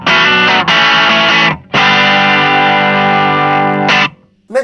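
Sustained, distorted electric guitar notes through a ZOOM MS-50G multi-stomp reverb ring out loudly with a wash of reverb, played in long held phrases with brief gaps between them.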